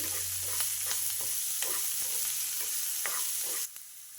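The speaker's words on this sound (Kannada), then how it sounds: "ಇನ್ನು ಎರಡು ಕಾಯಿ ಮೆಣಸನ್ನು ತುಂಡು ಮಾಡಿ ಹಾಕಿ ಚೆನ್ನಾಗಿ ಹುರ್ಕೊಳ್ಬೇಕು" Curry leaves, ginger, asafoetida and chopped green chillies crackle softly in hot oil, with a steady sizzle and regular light stirring taps that stop abruptly near the end.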